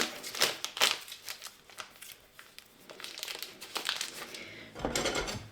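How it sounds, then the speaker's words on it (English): A plastic piping bag filled with chocolate is twisted, giving quiet irregular crinkles and rustles in close bursts, with a louder crumpling swell near the end. "Get the bag out, push chocolate down, twist and twist and twist and twist."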